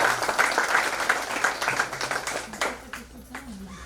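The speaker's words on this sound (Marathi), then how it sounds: "जोरदार टाळ्या वाजूया सर्वांसाठी व सर्व शिक्षकांसाठी" Loud applause for the teachers and organising team fills a hall at a school golden jubilee ceremony, dense clapping from a crowd that thins toward the end as voices come through.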